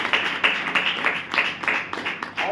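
An audience claps in quick rhythmic unison, with bright, fairly close bursts of many hands repeating steadily through the stretch.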